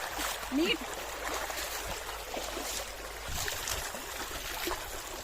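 Clear water runs through a village stream in a steady, close trickling rush with small splashy surges, and voices are faintly heard in the background.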